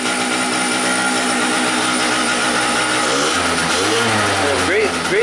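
Small 50cc scooter engine running at a steady idle with a buzzy, continuous drone, picking up briefly near the end as the revs rise, close by and loud.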